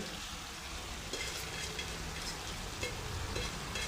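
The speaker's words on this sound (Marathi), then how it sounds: "आता ही मटकी ह्या फोडणीमध्ये छान अशी भाजून घ्यायची आहे सगळी" Moth beans sizzle and crackle steadily in hot oil, a continuous frying hiss with occasional louder pops.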